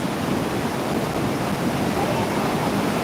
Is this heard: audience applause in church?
no